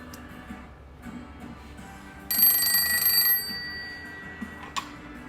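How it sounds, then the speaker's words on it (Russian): An old telephone in a dumpling shop rings once with a short, bright bell burst of about a second, fairly close and louder than the quiet room around it. "Этот телефон, он даже работает. Сейчас могу позвонить"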